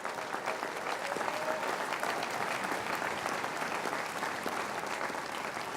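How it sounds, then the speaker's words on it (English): A large audience at a William & Mary commencement ceremony breaks into sustained applause, a thick, continuous clapping wash at moderate level with no pauses. "Please give them a nice round of applause."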